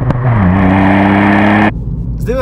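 A Ford Fiesta ST engine revs hard and loud up close, a rising held note with the exhaust valve opening, then cuts off sharply near the end.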